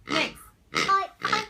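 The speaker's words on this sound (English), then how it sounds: "How does a pig sound like?" A toy pig gives three short, nasal grunting oinks in quick succession, close and fairly loud, with brief pauses between them.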